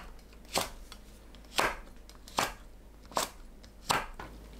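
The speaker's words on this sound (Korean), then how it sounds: "홍고추는 어슷 썰어줍니다." Knife slicing red chili peppers on a cutting board, five crisp chops at a steady, unhurried rhythm, close and clear with a faint background hush and no voices.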